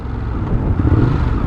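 Ducati Monster 821 motorcycle exhaust, a loud, steady low rumble with rough pulsing throb, close and continuous with no talk.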